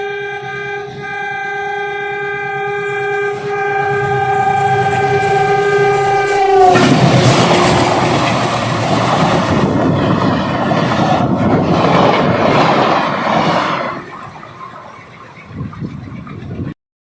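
A train sounds its horn as it arrives, then roars past at close range with loud rumbling and clattering wheels rolling over coins placed on the rail, fading as it moves away.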